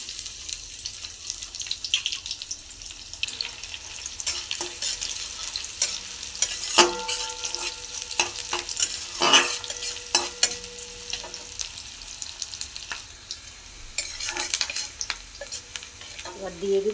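Chopped green chilli and onion go into hot oil with dried red chilli and panch phoron, stirred in a pan with a steady close sizzle, scraping and clinks, and some brief splashy water-like sounds.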